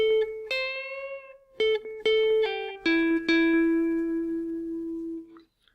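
Clean electric guitar picks a slow lead phrase, several distinct plucked notes ringing out before a final sustained note fades.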